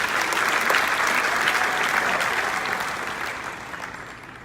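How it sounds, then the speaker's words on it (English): A large forum audience breaks into sustained applause, dense and steady at first, then gradually tapering off toward the end. "Give yourself a round of applause."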